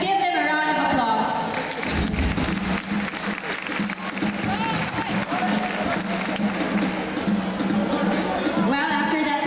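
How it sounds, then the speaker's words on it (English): Steady, full audience applause rings out for beauty pageant candidates after their interview round, sustained and fairly loud, with music briefly audible at the start and end. "So let's give them a round of applause."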